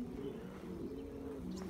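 Racing pigeons circling a loft give soft, low cooing close by, a brief rolling murmur against steady outdoor background noise.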